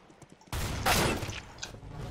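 A shotgun fires in the video game CS:GO, one sharp blast followed by a brief echoing tail and faint game ambience, with no talk.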